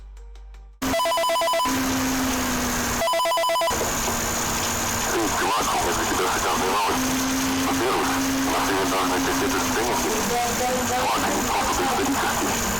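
A telephone rings in a hidden sound file from Five Nights at Freddy's, a steady electronic tone pulsing in bursts after a brief silence, then running continuously under a loud, noisy, distorted wash.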